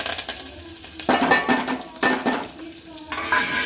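Mustard seeds, chillies and curry leaves sizzling in hot oil in a pot for a tempering, with bursts of loud crackling, spoon stirring and metal clinks against the pan.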